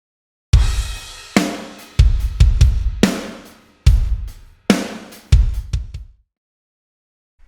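Drum hits soaked in long reverb and gritty saturation from H-Verb and Decapitator distortion plugins, a series of loud percussive bursts each trailing into a washy decay, with no talking.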